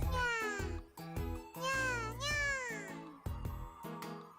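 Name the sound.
girl imitating a cat's meow in video game Chrono Clock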